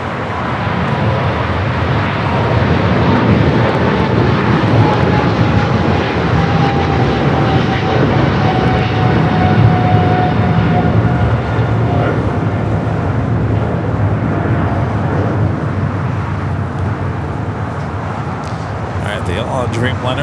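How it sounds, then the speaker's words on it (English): Qantas Airbus A380 airliner arriving at LAX, a loud steady roar of jet engines filling the whole stretch without a break, with a faint rising whine and a commentator talking over it. "got that Qantas A380 Super up next for arrival here on the south"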